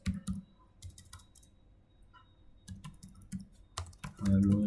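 Quick, irregular keystrokes and clicks on a computer keyboard while writing a short Python program, close and clear with small pauses between bursts and a louder thump at the end.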